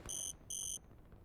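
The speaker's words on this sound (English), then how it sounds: "And Crypto's also out of energy, as we can hear from the beeping" Two quick, shrill electronic beeps sound back to back as the out-of-energy warning in the strategy game Line War, clean and alone.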